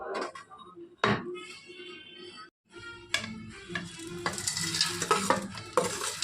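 A spoon stirs mashed ingredients into a roasted flour mixture for laddu in a pan, giving irregular scraping and clattering strokes with soft sizzling, close and moderately loud.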